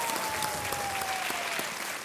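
Studio audience applause on a televised quiz game show, a dense steady clapping that fills the whole moment, with a faint tone gliding underneath.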